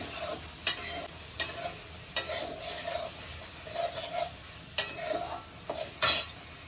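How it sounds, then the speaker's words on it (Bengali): Shrimp malai curry spice paste is stir-fried in a pan, with sharp spatula scrapes and clinks recurring every second or so over a soft, low sizzle. "হ্যাঁ, এটাকে এবার আমি ভালো করে কষে নেবো।"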